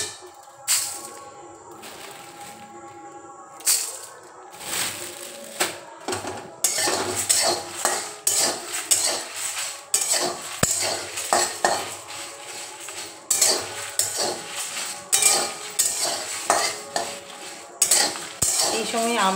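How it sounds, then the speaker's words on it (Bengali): Coriander seeds frying in a pan for a sweet raw mango pickle, heard as close metallic clinks and scrapes of a spoon against the pan in uneven bursts over a light sizzle, with no voices. "এই যে আমি ধনেটা দিয়ে দিলাম, কারণ ধনেটা ভাজতে একটু সময় লাগে"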